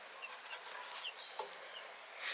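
Soft, scattered clucks from a hen among faint farmyard chirps, fairly quiet and a little distant, with no talking.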